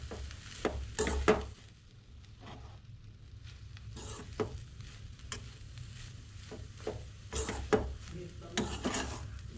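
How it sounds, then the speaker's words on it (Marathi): Grated coconut is roasted in a pan for a Goan mixed vegetable stew. Scattered sharp scrapes and clinks of a spoon stirring against the pan sound over a faint low background. "आतां हे भाजून घेवंक जाय म्हटल्यार सोय आनी खोबरें।"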